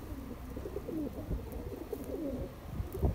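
Teddy pigeons, including a Teddy cross, coo softly in low repeated throaty bursts close by, with faint background rustle and no speech.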